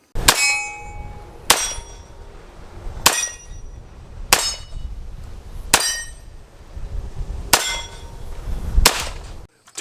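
A Springfield 1911 Mil-Spec pistol fires 230-grain hollow points: seven sharp, loud reports spaced about one and a half seconds apart, each followed by a short ringing decay.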